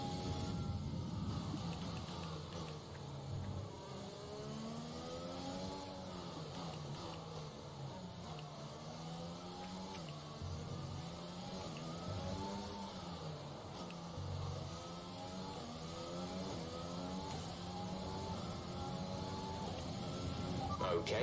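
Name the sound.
F1 car engine short shifting, video game F1 2020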